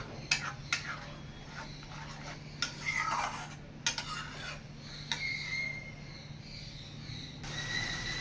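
Poppy seed and cashew spice paste sautéed in a pan for a fish dish, with a spatula scraping and clinking against the metal in irregular strokes over a low steady background hum.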